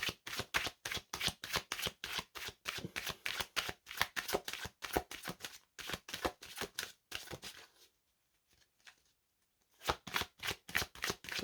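Deck of cards shuffled for a reading, rapid riffling bursts repeating in quick rhythm, close and crisp, with a brief quiet pause before the shuffling resumes.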